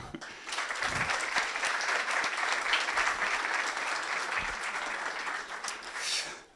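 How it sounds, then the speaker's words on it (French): An audience applauds steadily for several seconds, a dense wash of clapping that fades out at the end. "vous pouvez les applaudir"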